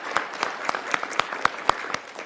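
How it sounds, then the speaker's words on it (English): A small city council meeting audience claps in a sparse, uneven patter of a few distinct hand claps, moderately close, with no voices over it. "So let's clap for 933."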